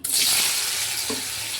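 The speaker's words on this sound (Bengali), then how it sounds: "তেলটাও একটুখানি গরম হয়েই গেছে। পনিরগুলো এবারে ছেড়ে দিই" Paneer pieces drop into hot oil in a kadai with a loud, bright sizzle that surges at once and then settles into a steady, close crackle.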